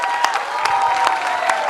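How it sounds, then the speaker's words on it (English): Audience applause at a live stage event honoring actresses Neha Dhupia and Rasika Dugal, a steady dense wash of clapping from a crowd, moderately loud throughout with a few sharper individual claps standing out. "Can we please have a big round of applause for Neha and Rasika?"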